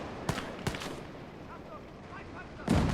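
Mortar and gunfire in the WWII video game Gates of Hell: two sharp blasts close together early on, then a lull with faint battlefield noise and a heavy, booming impact at the end.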